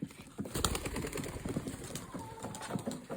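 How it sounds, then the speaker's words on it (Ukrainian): Racing pigeons released for a 25 km race flutter off, with quick wing claps and flapping bursts close by, plus a few soft bird calls and scattered knocks. "Голуби летять."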